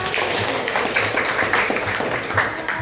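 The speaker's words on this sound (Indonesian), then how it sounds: "beri aplaus buat kelompok satu" Students clap for group one in a classroom, a steady patter of applause from many hands lasting a few seconds with no talk over it.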